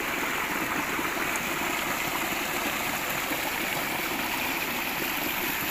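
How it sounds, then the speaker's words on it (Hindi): Water from a farm tubewell runs steadily into a field channel, a continuous close rushing flow with no breaks. "ये जा रहा है पानी।"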